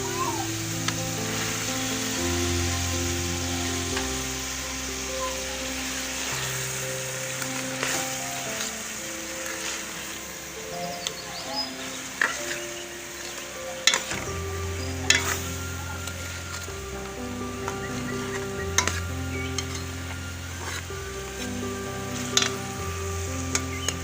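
Lentils for daal mash hit hot frying masala, giving a steady close sizzle broken by scraping stirs in the pan, with a soft tonal background running throughout.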